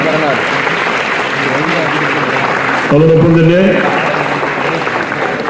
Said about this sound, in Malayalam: എല്ലാവരും ഒരു നിറഞ്ഞ കയ്യടി ഗീതയ്ക്ക് നൽകണം